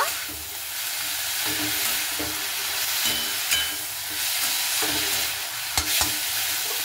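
Spinach seasoned with salt and turmeric powder is stirred in a hot pan, a steady close sizzle with repeated scraping strokes of a spatula throughout.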